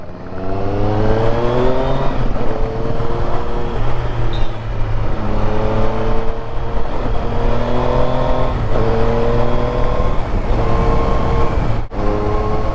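A 2020 Triumph Street Triple RS motorcycle revs hard under acceleration, its engine note climbing in repeated sweeps broken by quick-shifter gear changes, loud and close, with no talking.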